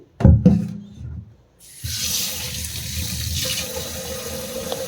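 Water running from a tap into a sink while rice is soaked, after a couple of knocks and a pause, then a steady close gush to the end.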